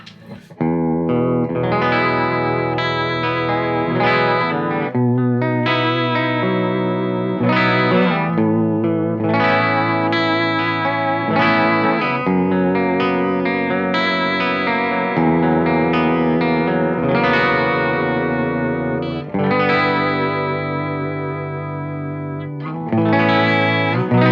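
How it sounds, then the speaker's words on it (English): An electric guitar runs through a gritty tweed-style gain pedal with Magnatone-style vibrato, sustained chords wavering in a steady throbbing pulse, loud and continuous with lingering reverb. "it's pretty much just doing the kind of Magnatone vibrato thing"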